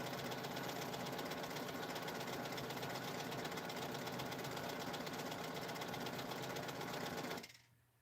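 A sewing machine runs steadily at a fast, even buzzing rhythm for several seconds, close by, then stops abruptly.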